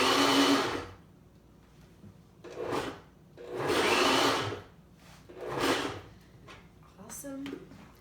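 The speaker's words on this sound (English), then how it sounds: "pulse that a little bit in the blender and finish up" A kitchen blender pulses pumpkin pancake batter in about five separate bursts of whirring, each roughly a second long, near and fairly loud, with quiet gaps between and a short clatter at the end.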